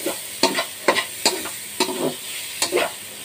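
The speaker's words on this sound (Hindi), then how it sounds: "इसको भी अच्छे से हल्का सा स्टिर फ्राई कर लेते हैं" Cabbage and cauliflower stir-fried in a pan: repeated scraping strokes of a spatula, five or six in a loose rhythm, over a steady sizzle, close and clear with no talk.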